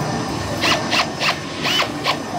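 A Milwaukee battery-powered crimper presses a lug onto a wire, giving five evenly spaced short whirring pulses over a steady background hum.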